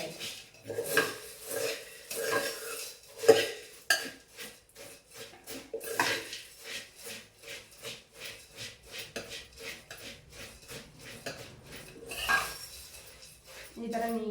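A spoon stirs and mixes a mixture in a small metal pot, making a long run of quick, rhythmic scraping and clinking strokes, close up and fairly quiet.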